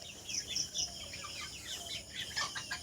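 Chickens and roosters on a small poultry farm cluck and chirp in quick overlapping bursts, close and fairly loud, with no one speaking.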